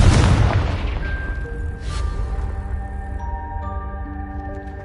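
A Confringo blasting spell from Hogwarts Legacy detonates in a deep, booming explosion that rumbles away, followed by a second burst and lingering tonal magical hums and chimes.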